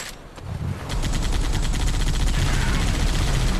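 Gunfire in the Halo 3 ODST video game, where a sniper rifle is used against Covenant shade turrets, comes as loud dense overlapping shots and rumbling blasts in continuous battle noise with no clear talking.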